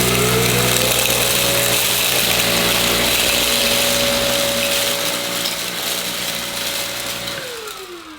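A Samsung Powerstick Pro VS8000 cordless vacuum with a turbo action brush runs loud and steady with a strong motor whine, then spins down in a falling tone near the end, with no voices.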